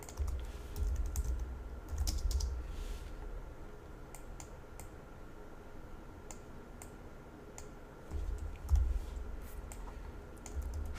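Rapid typing on a computer keyboard while writing C# code, with bursts of clicking keystrokes that come and go alongside a low background rumble, no talking over it.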